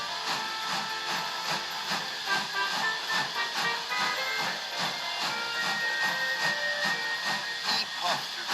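Thomas the steam engine puffs in a steady rhythmic chuffing with hissing steam, moving at a constant pace, close and moderately loud with no talking.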